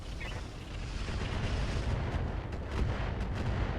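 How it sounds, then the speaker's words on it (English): Mech weapons fire in the RogueTech BattleTech video game, a rumbling barrage of booming, crackling blasts that continues for several seconds. "Firing on target."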